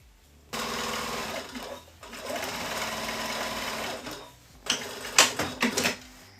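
A sewing machine stitches fabric for smocks, running steadily for several seconds at close range, then pausing and restarting in short stuttering bursts.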